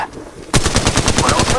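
Rapid automatic gunfire from a weapon in the mobile shooter Apex Legends Mobile, a loud, steady stream of closely spaced shots starting abruptly and continuing without pause.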